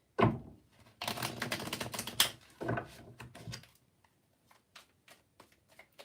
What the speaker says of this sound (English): Just give the cards a really good shuffle in between.